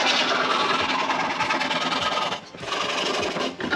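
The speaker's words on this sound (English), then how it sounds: "No, I got power tools." Power tools run steadily and loudly in a workshop during fibreglass repair of a crash-damaged car, one brief dip midway, with no voices.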